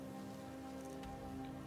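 Rain falls in modded Skyrim, a steady, soft patter and hiss with a low hum beneath it, faint and continuous with no voices.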